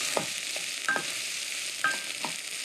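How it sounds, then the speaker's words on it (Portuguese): Shrimp heads fry in a pan for a shrimp açorda while a wooden spoon crushes them. A steady close sizzle runs throughout, broken by a few clacking stirs, with no voices. "Não tenham pressa, deixem fritar bem as cabeças"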